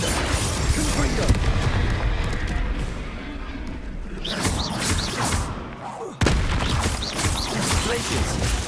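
In the Hogwarts Legacy game, the Confringo explosive spell goes off with dense, loud booms and thuds over continuous combat noise, including a sharp burst partway through and a voice speaking alongside.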